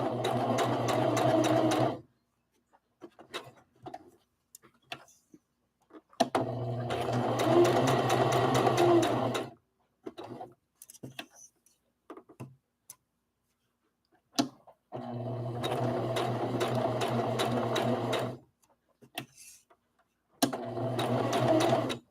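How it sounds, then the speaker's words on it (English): A Singer heavy duty sewing machine stitches fabric for a rag doll, running in loud steady whirring bursts of a few seconds each, separated by quiet pauses with soft handling clicks. "So just keep sewing until I get done sewing."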